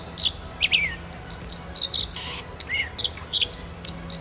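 A dipper sings a series of high, sharp whistles and short chirping trills in quick irregular bursts, heard clearly over a faint steady background.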